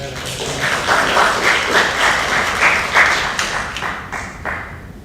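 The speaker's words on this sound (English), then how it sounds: "can we have another round of applause for our presenters?" An audience at a distracted-driver forum gives the presenters another round of applause: sustained clapping from a roomful of people, swelling and then tapering toward the end.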